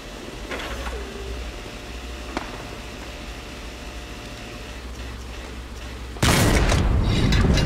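A high-explosive tank shell in Hell Let Loose, a muffled shot and quiet ambience with a sharp crack near 2.4 seconds, then a loud roaring blast bursting in near the end.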